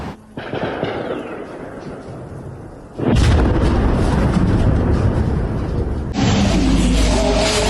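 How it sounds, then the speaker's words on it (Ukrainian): Heavy explosions during a massive night drone attack on Dnipro, Ukraine: a low rumbling boom, then two sudden loud blasts at about three and six seconds, each followed by sustained roaring rumble. "Впевнений, не злічити, скільки саме пролунало вибухів цієї ночі."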